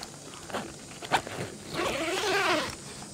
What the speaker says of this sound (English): just going to undo this zipper here